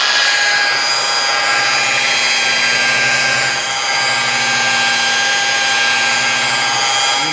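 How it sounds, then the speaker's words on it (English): A power buffer polishes car paint after color sanding, running nonstop with a loud, even high-pitched whine and a dense hiss. The pitch wavers slightly as the pad works the surface. "You're buffing this up. You're bringing that shine back."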